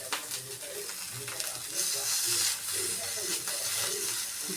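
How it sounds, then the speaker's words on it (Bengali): Aloo tikki patties sizzle on a lightly oiled tawa, a steady close hiss that swells in the middle and runs throughout. "পাউরুটিটা করে তারপরে ওই তাওয়াতেই আমি এটা বসিয়ে দিয়েছি"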